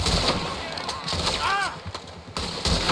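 A gunshot sound effect in an audio drama, with sharp loud cracks among excited voices, one of them crying out.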